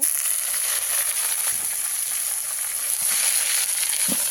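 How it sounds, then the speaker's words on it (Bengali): Mustard greens fry with browned onion, garlic and green chili in a pan: a steady, close sizzle with a constant bright hiss and faint crackles, continuous throughout with no talking. "এখন শাকগুলোকে সুন্দর করে ভেজে নিব।"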